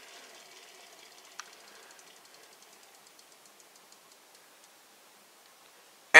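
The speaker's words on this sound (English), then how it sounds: "with it on its back, it spins for a pretty impressive amount of time" Cube Octopus toy from Doubutsu Sentai Zyuohger, spinning on its back: a faint steady whir with evenly spaced light ticks that slowly spread apart as it winds down, ending in a sudden sharp knock.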